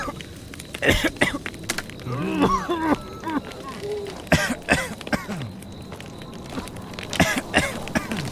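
A video game character's repeated coughs and throat clearing arrive in uneven bursts, mixed with light shuffling and background noise.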